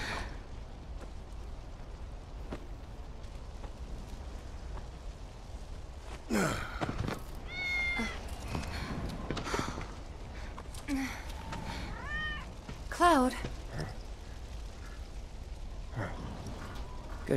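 A cat meows several times in Final Fantasy VII Remake, short rising and falling calls heard up close amid game ambience, with a brief spoken line and a few sighs and breaths in between.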